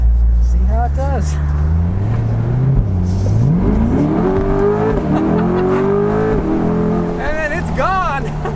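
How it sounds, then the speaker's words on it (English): A 2020 Corvette Convertible with its roof down accelerates hard, engine rising in pitch through gear changes, loud and close with wind rush, while a person talks over it. "I'm going to do an acceleration here just to give you guys a sample of what it sounds like with the roof down"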